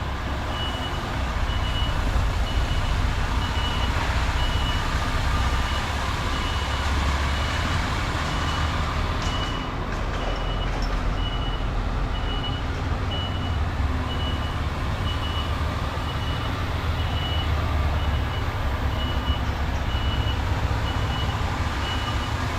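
A truck reversing a trailer gives steady, repeated reversing beeps over a constant loud diesel engine rumble, continuous throughout with no talk.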